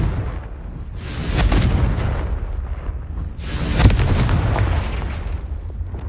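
Two heavy blasts from the Confringo fire spell in Hogwarts Legacy, the first near the one-second mark and a louder one about three seconds later, each a deep, broad boom that rolls out slowly, with no talk.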